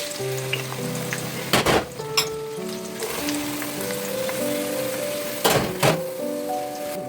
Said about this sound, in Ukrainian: Поки смажиться наша цибулька